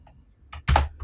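A burst of computer keyboard typing while entering the ifconfig command in a Linux terminal during a network lab, a few soft keystrokes followed by a louder cluster of quick, close clicks.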